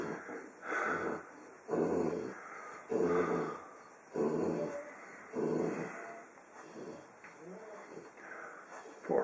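A female dog in labour giving birth to puppies, heard up close as a series of strained whimpers, snorts and low growls in repeated bursts about every second or so, with heavy breathing between them.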